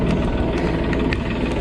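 A farm tractor idles steadily on a snowy day as it warms up, a continuous low rumble with a faint, even throb and no voices.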